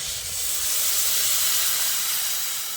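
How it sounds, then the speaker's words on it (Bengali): Hot water poured into a pan of frying potato and pea curry gives a loud, steady steaming hiss that holds evenly for a few seconds, close and alone. "এবার আমি এর মধ্যে দিয়ে দিচ্ছি পরিমাণ মতো গরম জল।"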